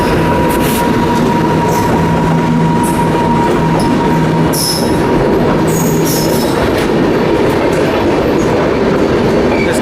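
The 15231 Barauni–Gondia Express, hauled by a WAP 7 electric locomotive, rolls into platform 1 at Raipur Junction; loud, close rumble of coaches with rhythmic wheel clatter and bursts of high squealing from the wheels.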